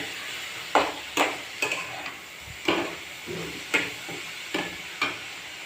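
Beetroot sautéing in a pan while being stirred, giving regular scraping strokes roughly every half second over a soft, steady sizzle, close by with no talking.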